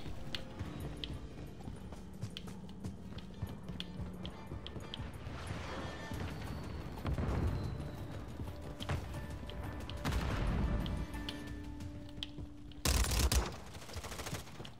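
Video-game gunfire from the player's weapon in a shooter match, coming in scattered bursts with a louder close volley near the end, over a busy background and with no talk.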